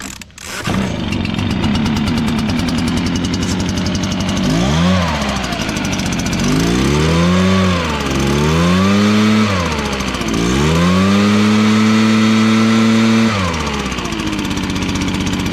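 A leaf blower engine starts with a sharp burst, then idles and warms up with several rising and falling rev swells, loud and close throughout with no speech.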